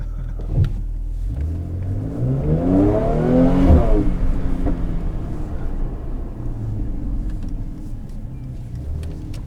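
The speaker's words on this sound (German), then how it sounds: "so in Sport Plus so ein ganz leichtes Wummern im Leerlauf" A Mercedes-AMG C 43 4MATIC in Sport Plus mode idles with a deep, close rumble that briefly swells and throbs before easing back to a steady low drone.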